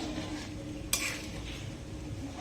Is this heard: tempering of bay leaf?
yes